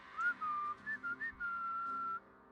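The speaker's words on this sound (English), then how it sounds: "Amazingly, with the power of his whistling, Nuktuk escaped." A cartoon character whistles a short, clear melody of several separate notes that ends on one long held tone, close and alone.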